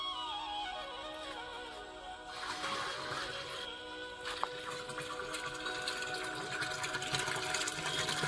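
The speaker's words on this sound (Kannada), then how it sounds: "ಅದ್ರ ಜೊತೆಗೆ 12 ಲೀಟರ್ ಹಾಲನ್ನು ಹಾಕ್ತಾ ಇದೀವಿ." Twelve litres of milk pour into a Panchagavya mixture, a steady watery splashing and gurgling stream that carries on without pause and builds slightly toward the end, fairly quiet and with no voices.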